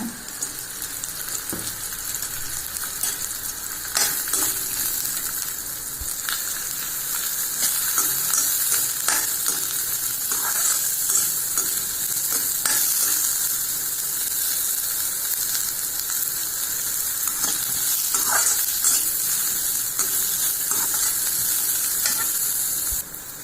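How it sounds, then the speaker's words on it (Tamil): Bitter gourd pieces sizzle in a little oil in a pan, with a continuous hissing fry and intermittent scraping and clinking of a spatula as they are stirred, close and without talk. "கொஞ்சோண்டு எண்ணெய் ஊற்றி இந்த பாவக்காயை நம்ம வதக்கிடலாம்"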